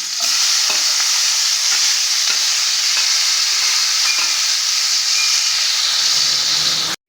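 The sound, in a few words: tomato and onions frying in pan for fish curry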